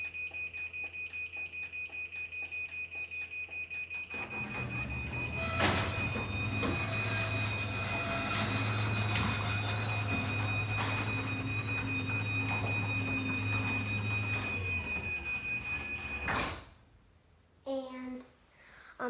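A Chamberlain garage door opener closes the door with a steady motor hum and rumble for about ten seconds, a high beeping tone sounding throughout, ending in a thud and brief child speech.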